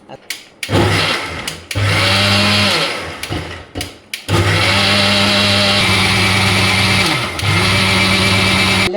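A kitchen blender grinds tomatoes for homemade tomato sauce in loud, close bursts: a few short pulses with pauses, then a long continuous whir whose pitch dips briefly.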